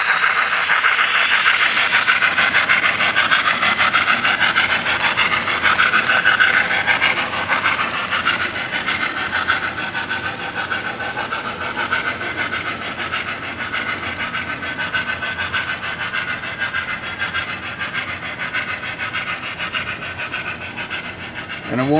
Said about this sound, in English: I'll run a train past it and demonstrate.